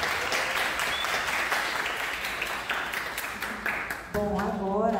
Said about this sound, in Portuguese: Palmas para o João Douglas.